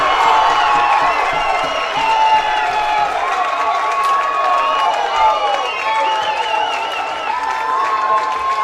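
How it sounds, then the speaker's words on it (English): A Heidelberg baseball crowd cheers loudly and steadily at a championship game, with sustained whistles, shouts and applause filling the whole stretch after a home run over the right-field fence. "this Heidelberg crowd is loving it"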